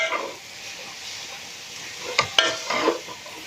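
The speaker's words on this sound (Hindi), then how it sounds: "ये देखें इस तरीके से हम सारी की सारी सब्जियों को मिक्स कर लेंगे।" Vegetables for chicken fried rice hiss faintly in a small pot, with a few sharp scrapes and clinks of stirring near the end, close and without voices.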